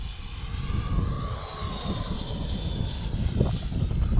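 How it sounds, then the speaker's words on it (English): A fast radio-controlled model airplane flying overhead, its electric motor giving a steady, fairly loud whine with broad rushing noise that holds throughout without pause. "Sorry if I'm flying far away, guys. I gotta be honest, this plane gets away very fast."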